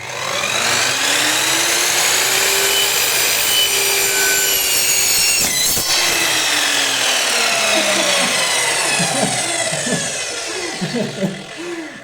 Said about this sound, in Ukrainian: зараз ми їх розріжемо і подивимося, що всередині